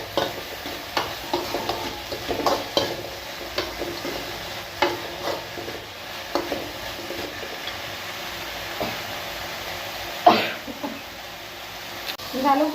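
Greens sauté in hot oil in a pan, giving a soft continuous sizzle broken by repeated scraping and clinking stirs, fairly quiet and close.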